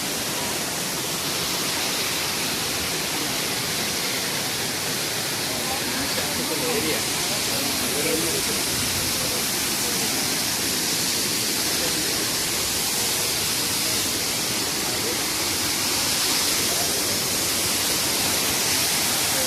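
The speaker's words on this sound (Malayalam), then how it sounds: "വെള്ളച്ചാട്ടം എന്ന് പറയുമ്പോൾ നിങ്ങൾ വിചാരിക്കും ഇപ്പോൾ ഇതാണ് ഈ കണ്ടുകൊണ്ടിരിക്കുന്ന വെള്ളച്ചാട്ടം" Waterfall at Aruvikkuzhi in Pathanamthitta, a steady, loud, continuous roar of falling water filling the whole stretch without a break.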